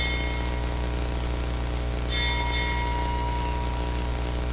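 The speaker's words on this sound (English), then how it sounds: "They ring a bell every half hour." A Navy ship's bell rings two quick clear strikes over a steady, heavy shipboard hum, the bright metallic tones brief and moderately distant.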